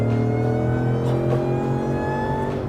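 A Shelby shifted into four-wheel drive high accelerates with a loud, sustained engine drone whose pitch climbs gradually, close and continuous with no speech.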